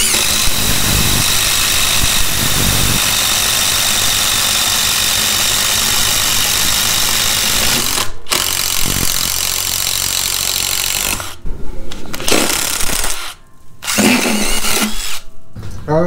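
Craftsman CMCF820 and Skil ID573901 impact drivers bore quarter-inch spade bits into wood with a loud, sustained grinding whir that cuts out briefly several times near the end.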